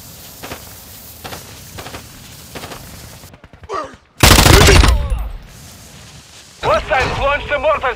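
Gunfire in Call of Duty: Modern Warfare II DMZ: faint rhythmic shots give way to one loud, close burst of fire. Voices and radio chatter follow.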